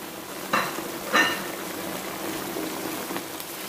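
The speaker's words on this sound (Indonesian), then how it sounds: "biarkan dengan api kecil mendidih pelan-pelan, ngerecek ya kan, nanti bumbunya menyerap." Largehead hairtail fish simmers in tomato spice sauce over low heat with a soft, continuous bubbling sizzle. Two brief utensil clinks rise above it near the start.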